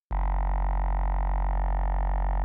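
Static synth pad from the Vital soft synth with bend automation switched off, a steady sustained harmonic drone that holds unchanged, loud and even, from a sharp onset to the end.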